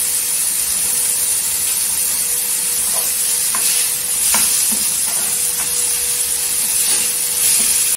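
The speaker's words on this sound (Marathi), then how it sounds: "मिक्स करायचं, तेलावर परतायचं छान." Spices and tomato chutney sizzle steadily in hot oil with turmeric, salt and asafoetida, a constant frying hiss broken by soft scraping stirs of a spoon, close and alone without talk.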